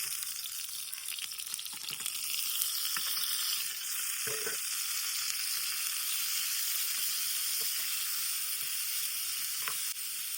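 A steady hiss of onion and tomato sizzling in a hot pan for biryani, with occasional soft scrapes and clinks of stirring, close and continuous.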